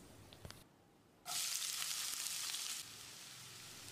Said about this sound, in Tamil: வெங்காயத்தை செவக்கிற அளவுக்கு வதக்கிடலாம்.